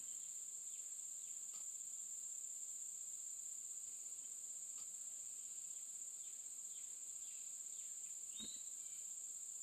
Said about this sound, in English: Big crickets.